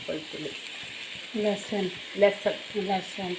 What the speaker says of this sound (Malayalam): അപ്പോൾ നമ്മൾ ടൊമാറ്റോ, വെളുത്തുള്ളി ഇടുകയാണ്